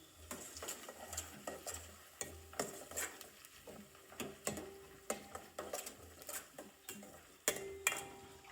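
Vegetables for pulao are stirred in a pan with a utensil, making quiet, irregular scrapes and sharp metallic clinks over a soft sizzle, with no voices.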